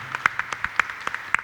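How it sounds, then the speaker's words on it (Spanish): Light, evenly spaced clapping from a small audience honouring professor Eleazar Amador Vera at an International Mother Language Day event in Huauchinango, Puebla, a steady patter of crisp claps without talk. "Fuertes los aplausos."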